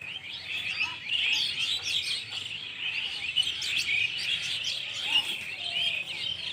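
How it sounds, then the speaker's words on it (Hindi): Many birds chirp and tweet continuously in a dense, bright outdoor chorus, close and fairly loud, with no talking. "पंछी का आवाज़ सुन लीजिए"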